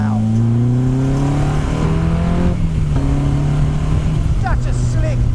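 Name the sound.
Honda S2000 engine revving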